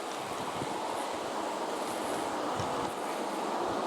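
A continuous rumbling, rattling clatter of a model train with an SD40-2 locomotive running steadily along its track, close and fairly loud, with no voices.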